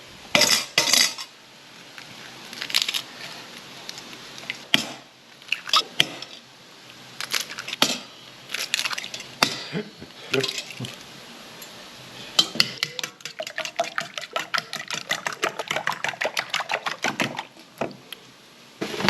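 Eggs are poured into a pan with soppressata and vegetables for an Italian frittata, followed by a busy run of metal utensil clinks and scraping taps against the pan, close and fairly crisp with no talking.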